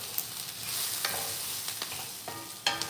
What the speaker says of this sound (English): While we give the onions a stir.